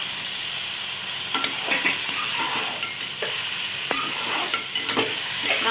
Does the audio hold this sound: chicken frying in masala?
yes